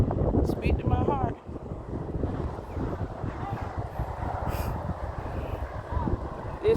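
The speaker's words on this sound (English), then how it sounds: "It's windy" Wind blows outdoors during a walk in nature, gusting buffets and rumble against the microphone throughout, with a voice briefly audible at the start.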